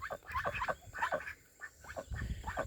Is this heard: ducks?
yes